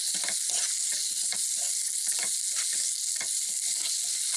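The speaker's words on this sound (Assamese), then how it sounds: "ইয়াতে মই চিকেনখিনি দিছোঁ। এতিয়া মই অকণমান লৰাই দিম।" Chicken pieces sizzle and fry in a pan, and a utensil stirs them in repeated scraping strokes, with a steady loud crackle throughout and no talking.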